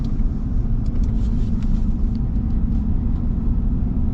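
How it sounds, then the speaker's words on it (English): Inside a moving Ram TRX truck, a steady loud low road rumble and wind roar fill the cab, with faint flutter from a small flag attached to the window, and no talking. "if you hear a lot of wind noise there, I don't know if you guys saw, there's a little flag attached to the window"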